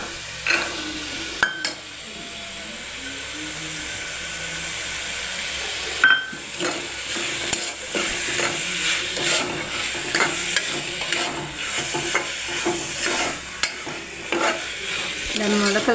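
Sprouted lentils stir-fried in a hot pan with turmeric, loud continuous sizzling and hissing with repeated scraping strokes of a spatula against the pan, close up with no talking.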